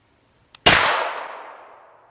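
A single shot from a Kel-Tec Sub-2000 carbine rings out sharply outdoors, the report followed by a long ringing decay, with a faint click just before it; no steel ping is clearly separate from the blast.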